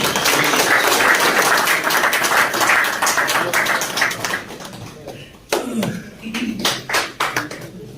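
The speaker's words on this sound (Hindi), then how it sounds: "इनके लिए जबरदस्त तालियां" A crowd at a medal ceremony for a pigeon tournament in Kashmir applauds loudly and steadily, then the clapping thins into scattered claps and fades as voices come through.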